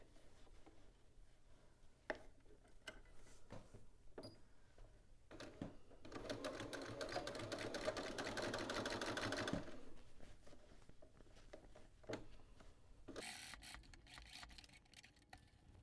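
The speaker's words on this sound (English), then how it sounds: "we are understitching on, and we're going to be pushing our seam allowance towards our dress, not our neckband" A sewing machine understitches a neckband seam on a dress, one short steady whirring run in the middle, faint and close, framed by scattered light clicks and fabric handling.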